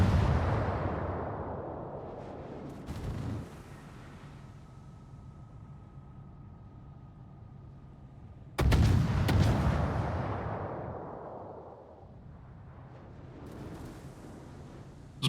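Warship main battery guns firing in a naval video game, two heavy distant booms several seconds apart, each rolling off into a long fading rumble over a quiet hum.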